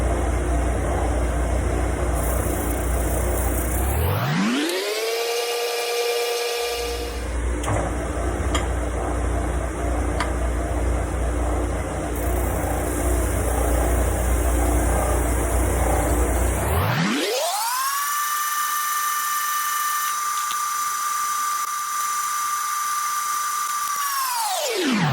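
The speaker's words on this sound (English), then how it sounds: "So now I'm going to take my sander here, my spindle sander, and I'm going to refine this." A spindle sander refines the edges of a guitar headpiece template, its motor spinning up to a loud steady whine, briefly winding down mid-clip, then running on before a second spin-down and restart with rising pitch.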